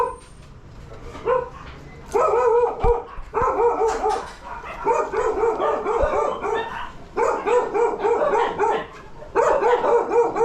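A new puppy barks and yips repeatedly in close, loud bursts with short pauses, some whimpering between barks, at night in Pasay.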